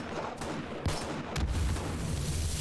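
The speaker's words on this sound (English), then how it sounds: "there's the first explosion" A gas barrel explodes in the game 7 Days to Die with a heavy boom after a couple of sharp cracks, then a loud low rumble continues. No voices are heard.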